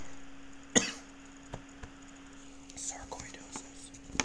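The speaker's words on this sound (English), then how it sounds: "excuse me, I'm now coughing." A single sharp cough bursts out near the start, then faint murmuring and small scattered noises follow in a quiet room.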